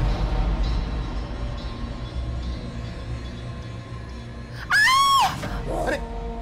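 A woman lets out one loud, shrill scream lasting under a second, rising then falling, after a stretch of low room noise and background hum.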